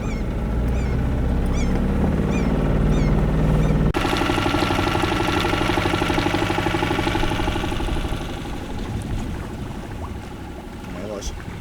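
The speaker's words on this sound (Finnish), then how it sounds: "Vielä hetki pidetään moottori käynnissä varmuuden vuoksi." A sailboat's motor runs steadily on a Finnish lake, a continuous mid-pitched engine drone that shifts in tone partway through, with water and wind noise around it.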